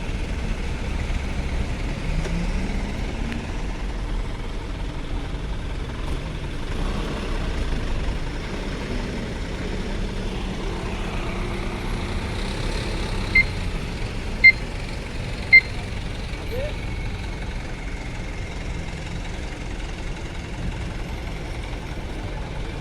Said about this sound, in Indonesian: Baru kendaraan truk yang masih mendominasi masuk ke dermaga ekspres.